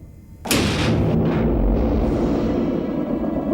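A sharp launch from a German U-boat firing a torpedo, a loud sudden burst followed by a sustained deep rushing roar that carries on for several seconds.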